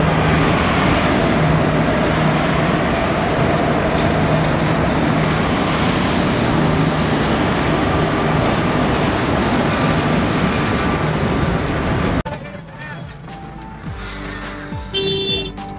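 A train rumbles loudly past a railway level crossing with steady clickety-clack of wheels over rails for about twelve seconds, then the din drops away abruptly, leaving quieter road and street background.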